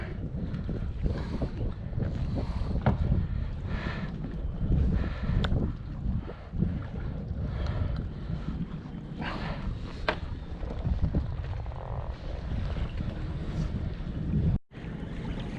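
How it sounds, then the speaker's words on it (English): Wind buffets a microphone on a small fishing boat trolling near a harbor, a loud, continuous rushing roar with gusty swells and faint water sounds beneath, no talking. "the wind's picked up a tiny bit, so we're moving in a little bit closer to the harbor"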